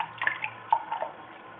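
A parrot bathes in water, making soft, faint splashing and dripping sounds in a few light bursts, with no voices.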